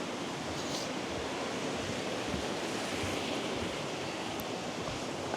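Water rushes continuously down the main waterfall on a forest trail in Glenariff Forest Park, a dense, steady hiss like heavy rain, unbroken and fairly loud throughout.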